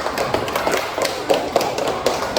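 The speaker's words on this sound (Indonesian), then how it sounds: "Tepuk tangan." Elementary school pupils clap together in a classroom, giving a quick, uneven run of sharp hand claps at close range with little talk.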